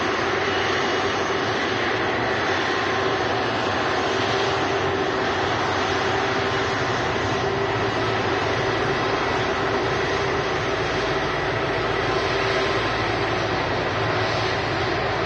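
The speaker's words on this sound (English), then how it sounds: "The base from this aircraft, taxiing past us." An aircraft in retro livery taxiing past at Manchester Airport, its engines a loud, steady, continuous roar and whine that holds evenly throughout, heard close by.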